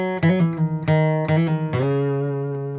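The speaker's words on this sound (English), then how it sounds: "this is the melody that I doubled and a lower octave the first round on the guitar" An acoustic guitar plays a melody an octave lower, doubled as a recorded part in a home studio. About five plucked notes ring out clearly and alone, the last one sustaining and slowly fading.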